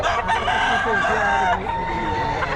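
A Hatch Gray gamefowl rooster lets out one loud, close crow that fills nearly the whole moment, with faint outdoor background behind it.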